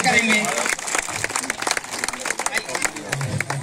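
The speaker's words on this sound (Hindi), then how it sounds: "सभी तालियां बजाकर सब उनका स्वागत करेंगे।" Audience at an Independence Day gathering clapping to welcome guests, a close, lively round of hand claps that runs throughout, with crowd murmur beneath.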